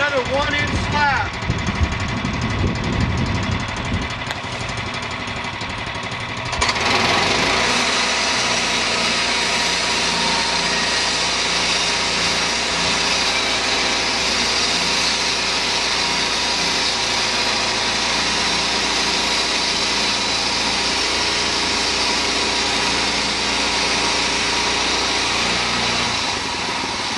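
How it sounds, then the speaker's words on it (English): A sawmill cuts a one-inch cedar slab, a loud steady high-pitched engine whine joined by a harsher blade roar that starts a few seconds in and runs continuously, with a voice under the noise early on. "We're going to cut another 1-inch slab."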